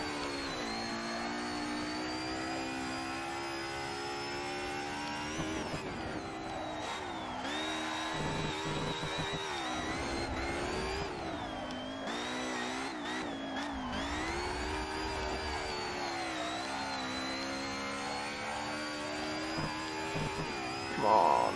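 A car engine in the Assetto Corsa racing game, driven on the Nordschleife, revs steadily while drifting. The tone holds high and rises and falls through long gear and throttle changes, with no pauses.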